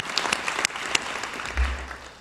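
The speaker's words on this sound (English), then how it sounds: "let's just give everyone in the room who's here to congratulate you from your family side" Applause from a commencement audience honoring graduates' families at the NYSID 2023 ceremony: scattered claps with a few distinct sharp hits, moderately loud and somewhat distant.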